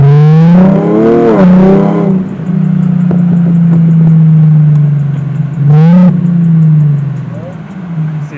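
A Nissan 370Z engine revs and its exhaust drones loudly and steadily up close, rising in pitch with each throttle blip, while a person talks over the start and again briefly near the end.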